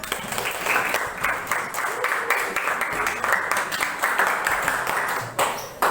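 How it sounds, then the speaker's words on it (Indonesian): Sustained audience applause at a teachers' coaching and academic supervision session, with dense clapping that rises and falls slightly and is cut off abruptly near the end. "Kasih tepuk tangan untuk Ina."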